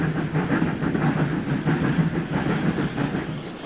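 A vintage O2 tank steam locomotive works a local train to Bodmin North on a Cornish railway line, with steady rhythmic chuffing and rolling wheel clatter, heard close and continuous.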